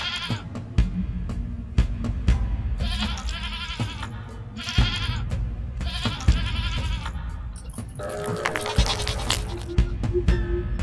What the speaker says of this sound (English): A ghost goat, apparently.